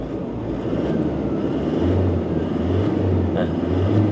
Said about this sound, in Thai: เวลาเร่งเครื่องยนต์นะครับ